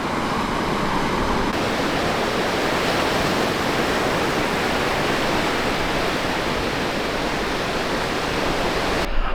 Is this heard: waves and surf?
yes